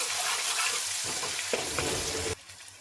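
Onion and ginger-garlic paste sizzle and fry in a pan while being stirred, a steady close hiss with scraping stir sounds throughout and no talk.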